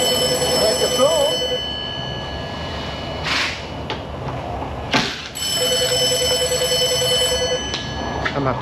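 A telephone rings in a busy auto repair shop, its warbling electronic trill repeating in a couple of bursts over steady shop noise and a loud background hum, with clanks and a voice speaking nearby.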